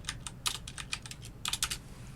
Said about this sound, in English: I'm going to type OpenJDK.